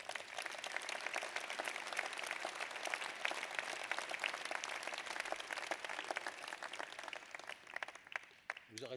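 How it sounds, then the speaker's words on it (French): Audience at a New Year's greetings ceremony applauding steadily, a dense wash of many hands clapping at moderate distance, sustained for several seconds before thinning out at the end. "Vous pouvez bien évidemment applaudir."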